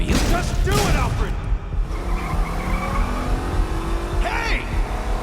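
A car screeches and skids with tire squeal and revving engine while ramming a barricade in the Batman Telltale game, loud and close, with voices talking over the action.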